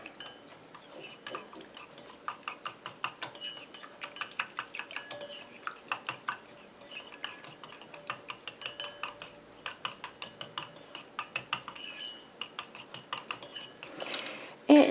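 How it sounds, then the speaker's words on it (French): Homemade coconut milk shower gel mixture is stirred in a container, making quick, regular clinking and scraping strokes that repeat steadily and close up throughout. "Je mélange un peu."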